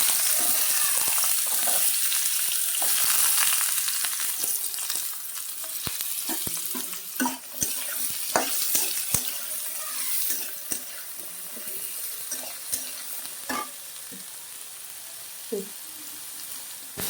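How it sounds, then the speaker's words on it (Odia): Potato and brinjal fry in a pan with a steady hissing sizzle, loud at first and then settling, punctuated by irregular clicks and scrapes of a spatula stirring, close up with no talking. "ତାପରେ ଆମେ ଯେଉଁ ଆଳୁ ବାଇଗଣକୁ ନେଇଛେ ତାକୁ ଭଲସେ ଭାଜି ନେବା"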